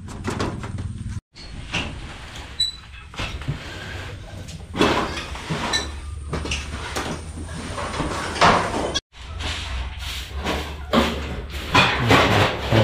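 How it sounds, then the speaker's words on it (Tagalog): A door being handled while it is replaced, with repeated knocks, scrapes and wooden thuds of the panel, loud and close, plus brief muffled rattles across the clip. "Palitan na natin yung pinto."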